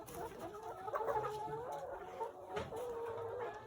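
Chickens around 17 weeks old clucking and murmuring continuously in a coop or yard, a steady busy chatter of several birds at moderate distance over background hiss.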